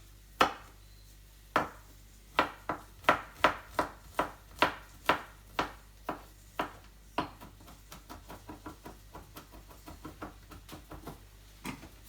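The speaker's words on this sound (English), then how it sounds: "And finally chop the garlic" Garlic being chopped with a knife on a board: a run of sharp, close knocks, roughly even at first, then quicker, lighter and more closely spaced taps, with no talking.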